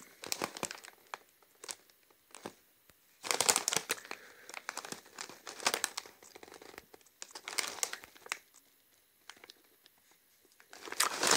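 A bag of wasabi-flavoured potato chips being opened and handled, giving bursts of sharp plastic crinkling and rustling close to the microphone, separated by short quiet pauses.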